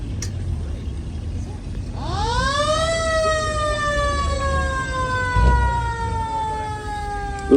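A horn on a vintage vehicle at a steam and vintage show sounds a long, sustained wailing note that rises and holds for several seconds, loud and fairly close over crowd murmur and outdoor noise.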